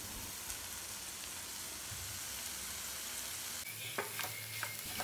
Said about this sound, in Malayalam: ഇനി നല്ലപോലെ ഇതൊന്ന് ഇളക്കി കൊടുക്കണം ചെമ്മീനിൽ എല്ലാ മസാലകളും ഒന്ന് നന്നായിട്ട് പിടിക്കണം